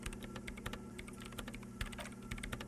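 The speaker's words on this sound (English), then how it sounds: "her hands typing hundreds of commands into the machine" Rapid typing of commands on a computer keyboard in the video game Disco Elysium, a dense, steady patter of key clicks, faint and continuous with no voices.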